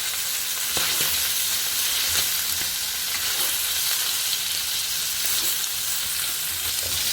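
Tuna pieces frying in a pan for a fish vindaye, giving a loud, dense, continuous sizzle with occasional faint clicks, and no voices.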